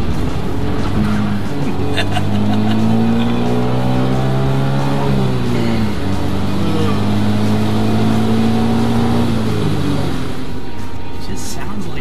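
Suzuki Cappuccino turbo engine while driving on an open English road, a loud, buzzy, race-like drone that climbs steadily in pitch, eases briefly, then climbs again, with a voice talking over it.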